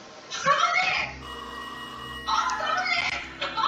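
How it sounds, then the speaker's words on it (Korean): A telephone rings in the puzzle game Rusty Lake Hotel, a steady electronic ringing tone that carries through most of the stretch while a voice talks over it at the start and end. "전화 받아."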